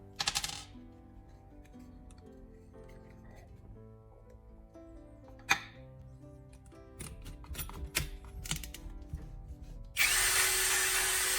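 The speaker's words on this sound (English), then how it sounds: "I use a drill to widen the opening where the plug used to be." Soft clicking and handling noises, then a power drill spins up loudly near the end of the clip, widening a hole in a plastic battery case.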